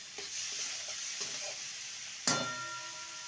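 Cabbage frying in a hot pan with a steady sizzle, stirred with a few scraping strokes and one sharp clatter near the end.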